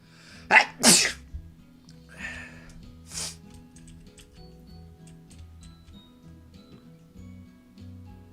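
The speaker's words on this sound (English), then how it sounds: "I gotta sneeze" A sharp, loud sneeze bursts out up close, followed by a softer second burst, then quiet ticking and small clicks continue in the background.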